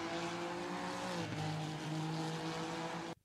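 Honda race car braking into a corner, a loud close engine note dropping in pitch as it decelerates, steady and continuous for a few seconds before cutting off.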